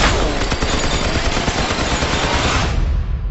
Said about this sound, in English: Nice shooting, Sheriff.